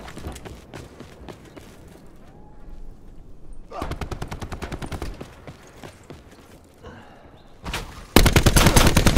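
Bursts of rapid automatic fire from a sentry gun in Black Ops 4, some near and some farther off, ending in a loud sustained volley, with a brief game voice mixed in.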